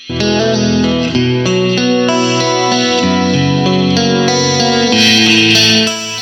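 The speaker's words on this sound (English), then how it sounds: "I want to add some tape sound to it. I'm going to blend that in." A clean electric guitar with blended tape saturation plays a sustained chord progression with a warm, slightly saturated tone and thick harmonics, steady and loud throughout.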